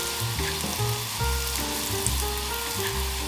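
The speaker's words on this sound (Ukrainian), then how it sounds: "Далі додаємо нарізаний хліб, трохи його обсмажити, періодично помішуємо." Sliced bread frying in a pan with garlic, with a steady close sizzle and occasional stirring scrapes, no voices.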